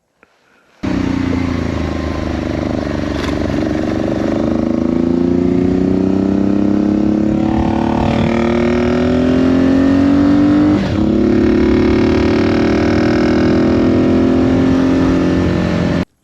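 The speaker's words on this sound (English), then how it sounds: "a wonderful motorcycle that I've really enjoyed" A classic motorcycle's engine drones steadily while riding, revving up gradually with pitch rising and dipping between gears, loud and close throughout.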